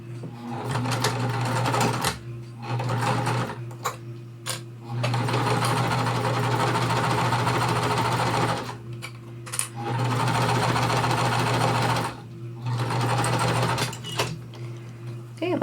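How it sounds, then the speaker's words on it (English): A sewing machine stitches quilt block seams at an exact quarter inch, running in steady loud bursts of several seconds each, separated by short pauses as the fabric is guided through. "I'm going to sew both sides at once so I don't have to bring it back over to the machine"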